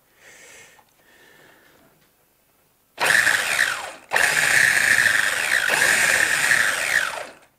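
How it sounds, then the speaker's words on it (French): A Hobao Hyper MT Sport Plus RC truck with all-steel gears whirs after a quiet start, a loud, harsh mechanical drone with a gear whine that drops out briefly and then runs on continuously. "il y a le bruit caractéristique d'un engin entièrement avec engrenage acier"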